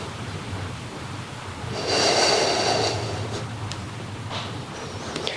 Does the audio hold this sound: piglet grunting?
no